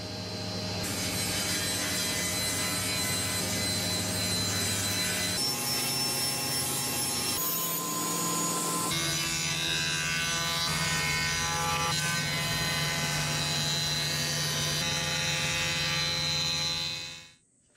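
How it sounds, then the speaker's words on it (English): A 20-inch thickness planer smooths a glued-up wood panel, a loud, steady mechanical roar with a shifting pitch as the board feeds through, then cutting off abruptly at the end. "I ran the entire panel through the planer"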